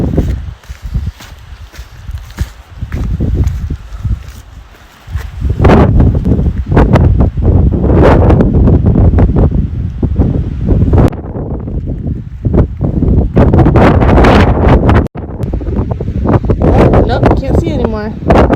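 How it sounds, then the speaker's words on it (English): Strong wind roars and buffets the microphone in heavy, continuous gusts on a mountain along the Appalachian Trail, with occasional footsteps crunching underneath. "It's a little windy up here."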